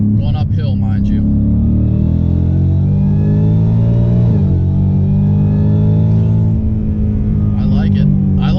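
A 700 hp 2018 Ford Mustang with a 10-speed automatic accelerates uphill, its loud engine note climbing steadily through the gears with brief dips at the shifts, heard from inside the car with talk at the start and end.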